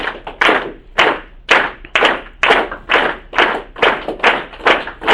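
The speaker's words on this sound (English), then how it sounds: "give me steady claps, about, one every half a second" An audience claps steadily in the pace of roughly one clap every half second, a string of sharp, loud, slightly ragged group claps that repeats evenly with no voices.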